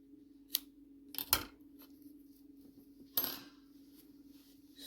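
A few sharp, brief snips of scissors cut through crochet yarn, quiet and close, with short gaps between cuts over a faint steady hum.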